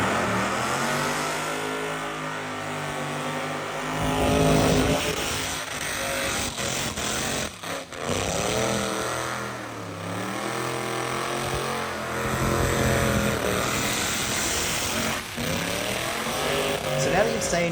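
A car doing a burnout with its engine revving hard, in loud rising and falling surges of engine roar throughout.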